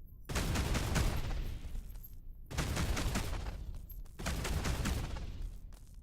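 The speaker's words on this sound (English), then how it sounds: "Or as just the gunfire goes?" Gunfire in the video game Between The Stars comes in three long, loud bursts of rapid shots, separated by brief near-silent gaps.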